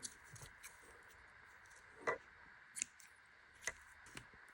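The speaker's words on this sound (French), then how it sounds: "Allez, ciseaux qui coupent." Scissors snip crochet yarn after a sleeveless vest is finished, giving a few faint, sharp clicks spaced about a second apart over a quiet background.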